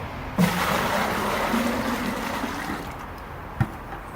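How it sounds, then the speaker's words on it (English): Dirty paint-cleaning water dumped from a bucket while cleaning an airless paint sprayer, a sustained sloshing pour with a thud at the start and a knock near the end, no talking. "I'm going to get rid of this dirty water."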